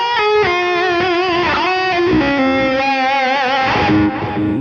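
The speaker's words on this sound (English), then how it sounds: "the wah sounds better with this overdrive instead of distortion." Electric guitar played through a wah pedal and overdrive, with sustained, singing notes and sweeping, vocal-like tonal shifts, loud and continuous, no talking.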